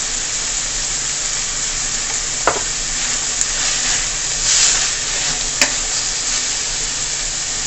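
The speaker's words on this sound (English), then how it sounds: "here I'm going to add the codfish or the saltfish as we call it." Saltfish (codfish) goes into a hot frying pan and sizzles with a steady hiss, with a few sharp clinks of a utensil against the pan while it is stirred, close by and with no talking.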